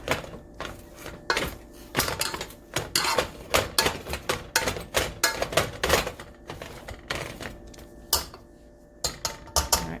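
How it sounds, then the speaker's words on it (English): Boiled potatoes being mashed in a pot on a stove with a potato masher: a rapid series of close metallic clanks and scrapes against the pot, irregular and repeated throughout. "So let's mash these potatoes."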